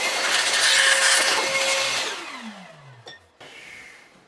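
Compressed air hisses loudly to blow out the oil galley of a Ford flathead engine, a strong steady rush that fades and drops away, then a short burst returns after a brief gap.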